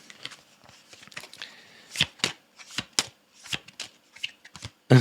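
Oracle cards are shuffled by hand and one is drawn, close and fairly quiet, with a run of irregular papery riffles and sharp card snaps in quick succession.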